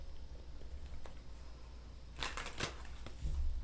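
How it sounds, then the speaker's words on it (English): A deck of tarot cards is given a quick shuffle, soft faint riffling that builds into a brief burst of crisp card flutters near the end. "I'm going to do a quick little shuffle."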